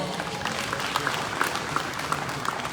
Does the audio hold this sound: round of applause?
yes